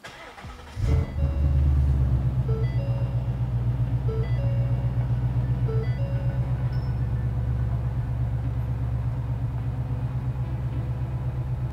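A car engine cranks and catches, then settles into a steady, close idle rumble that runs on without letup, with faint beeps from a connected tuning device over it.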